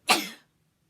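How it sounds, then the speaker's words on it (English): A single sharp sneeze bursts out close and loud, then trails off quickly into silence. "I gotta sneeze."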